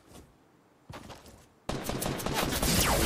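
Gunfire in the video game Fortnite: a couple of faint shots at first, then a dense, loud burst of rapid automatic fire that keeps going to the end.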